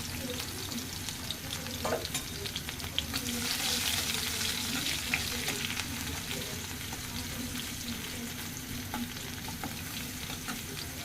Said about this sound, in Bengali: পেঁয়াজটা ভাজা ভাজা হয়ে গেছে মোটামুটি